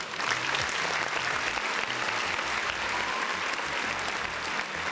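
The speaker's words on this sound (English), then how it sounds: "Round of applause for Stone for beating Persona." A crowd gives a dense, steady round of applause, loud and continuous for its whole length, with a little talk underneath.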